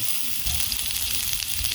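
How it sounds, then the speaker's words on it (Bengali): Potatoes frying in oil already used for fish, a close, continuous crackling sizzle at low level with no talking. "একই করে একই তেলে আমি আলুগুলাকে আঁকিয়ে নেব"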